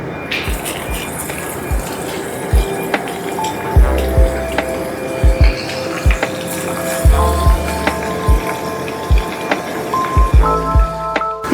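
Tempeh fries in a pan over medium heat with a steady sizzle, broken by scattered sharp pops and crackles from the hot oil, close and fairly loud, with no one talking.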